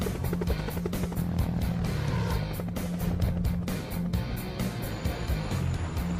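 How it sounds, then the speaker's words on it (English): Steady rotor and engine drone of a helicopter, loud and continuous, with a rhythmic chopping pulse throughout. "helicopters have evolved from slow-moving multi-purpose support vehicles to fast-moving frontline attack ships"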